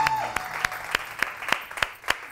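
A studio audience on a Pakistani morning TV show applauds, with distinct claps landing in a steady, almost rhythmic pulse over a soft bed of lighter clapping, moderately close.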